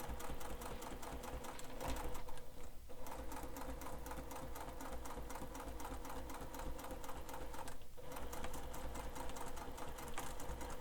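A sewing machine back stitches through a wallet, a fast steady mechanical clatter close up, with two brief pauses as the stitching stops and restarts.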